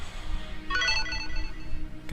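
A phone ringtone chimes briefly for about half a second during a Pokémon card game, with the player's speech continuing around it.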